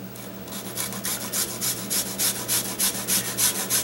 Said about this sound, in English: this is the garlic that I'm going to grate in here